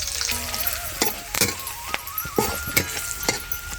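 Onion, crushed garlic, curry leaves and black masala frying in oil for an okra curry, a close sizzle broken by sharp clinks of a spoon stirring against the pot.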